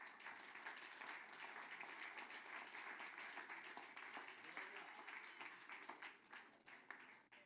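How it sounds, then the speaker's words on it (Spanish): A congregation claps steadily in a church service, a dense continuous wash of applause that stays even and fairly soft throughout. "Den un aplauso al Señor."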